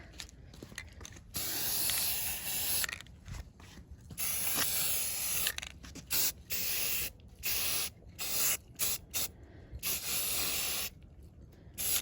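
Spray paint hissing from an aerosol can onto HVAC vent cover grates in repeated bursts of bright, airy spraying, some long and continuous, separated by short silent pauses.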